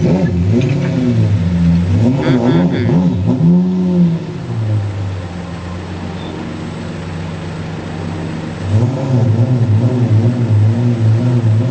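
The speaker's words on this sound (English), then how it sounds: "That's a beautiful sounding engine. I just love listening to the Lambo." A Lamborghini sports car engine runs up through loud, rising revs, settles to a lower idle, then surges again, close to the listener and with no talking.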